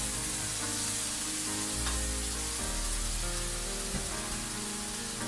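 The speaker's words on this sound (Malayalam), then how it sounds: "ഇതിലിപ്പോൾ കുറച്ച് ഞാൻ ആ വെള്ളത്തോടു കൂടി തന്നെ ഈ മഷ്റൂം ഇതിലേക്ക് അങ്ങ് ചേർത്ത് കൊടുക്കുവാണ്." Mushrooms with their water tipped into a pan of sizzling masala, giving a dense, even crackling sizzle that holds steady throughout.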